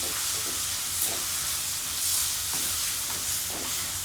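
Fresh mint leaves frying in a pan for a tomato onion chutney, giving a steady soft sizzle and hiss with faint stirring scrapes, close and continuous with no talking.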